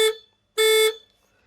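Two short, bright electric horn beeps from a Mahindra Veero CNG bus, a small-sounding horn for a large vehicle, the first clipped and the second held slightly longer, loud and close.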